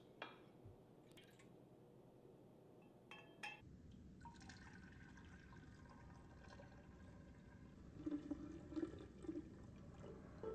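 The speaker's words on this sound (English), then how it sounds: "Let's pour it in our wine glass." Red wine pours steadily into a wine glass for several seconds, a soft continuous splashing that grows slightly fuller toward the end.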